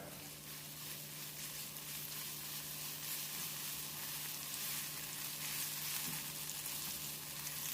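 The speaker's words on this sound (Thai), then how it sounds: "น้ำมันร้อนใส่พริกกระเทียมที่ตำผสมกับกะปิลงไปครับ" Pounded chili, garlic and shrimp paste sizzle in hot vegetable oil in a wok, a steady, dense crackling hiss that runs unbroken and fairly close, with no talking.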